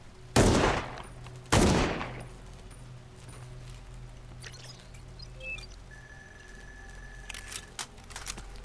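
Two loud, sharp gunshots about a second apart in the retro-inspired indie horror game Ground Zero, each ringing out briefly before a quiet ambient stretch with faint scattered game sounds.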